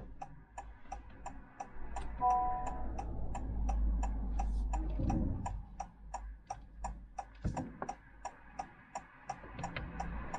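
A car's turn signal indicator ticks at a steady, even rhythm of about two clicks per second, close and clear inside the cabin over a low engine hum, during a driving lesson as the car moves off.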